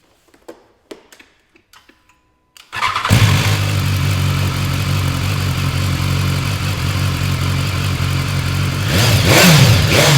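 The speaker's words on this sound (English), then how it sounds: "let's fire the bike up and give it a listening to" A BMW S1000XR motorcycle engine cranks and fires after a few quiet clicks, then settles into a loud, steady idle and rises into a sharper rev near the end, close and alone.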